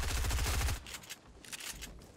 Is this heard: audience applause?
no